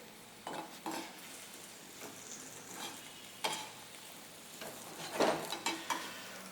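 Beef for lomo saltado is stirred in a hot pan, with a steady sizzle under several scraping strokes of a utensil against the metal, close and moderately loud, with no voices.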